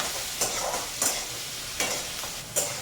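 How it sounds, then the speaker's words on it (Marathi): Onion and tomato frying in two spoons of oil for an okra curry, a continuous bright sizzle broken by four sharp spatula scrapes against the pan. "कांदा आणि टॅमॅटो घालायचं कांदा आणि छान तिथं भाजून घेऊया"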